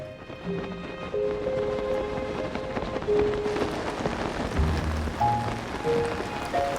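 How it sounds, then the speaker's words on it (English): Steady patter of rain on a surface with dense, continuous droplets, accompanied by soft musical tones in the background, heard while gliding in the video game The Legend of Zelda: Tears of the Kingdom. "when it's raining, you can actually hear the pitter-patter of the rain while you're gliding"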